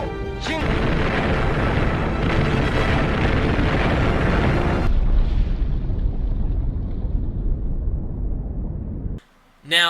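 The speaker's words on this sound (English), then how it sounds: "So this is him when he's crossing that bridge and they're bombing him." Loud, dense booming and rumbling from the bridge bombing scene of the Shin Godzilla film fills the first half, then a lingering roar fades off before a brief silence and an abrupt return of sound.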